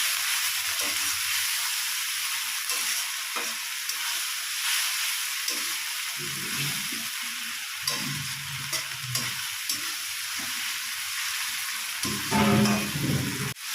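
Garlic paste and a little salt frying in hot oil for a coriander chicken curry, with a continuous close sizzle and hiss broken by sharper spattering bursts and the scrape of stirring.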